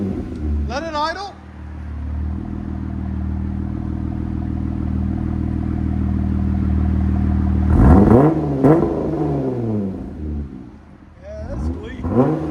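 A 2023 Jeep Gladiator 3.6L V6 fitted with a Dynomax Race Bullet exhaust and resonator delete idles with a steady, deep, even rumble. Voices talk briefly near the start and again toward the end.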